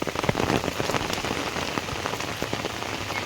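Steady rain pours down onto surfaces, a dense continuous patter of close drops with no pauses and no voices.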